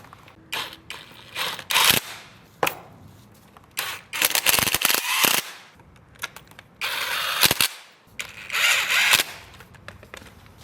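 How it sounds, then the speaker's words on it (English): Sharp bursts of ratcheting from an M8 socket wrench tightening the front fender bolts beneath a lower triple clamp of a dirt bike, a series of quick clicking runs separated by short pauses. "use an M8 socket wrench to install the front fender on the bottom of the lower triple clamp and tighten"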